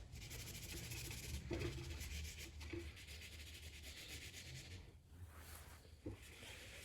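A damp kitchen towel rubbing over a pastel and charcoal painting, a faint continuous soft scrubbing with short pauses and a few light taps, close and quiet with no talk.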